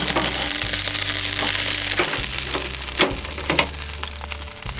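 80/20 beef burgers sizzle steadily over a smoky charcoal grill, a loud continuous hiss broken by crackles and a few metallic clicks, with a low hum running beneath.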